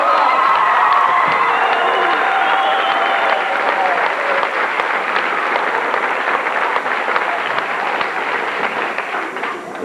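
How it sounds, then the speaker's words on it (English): Loud, sustained applause from a large crowd at a high school band concert, with cheering and whoops mixed in, steady throughout and only slightly fading toward the end. "Let's give a great round of applause."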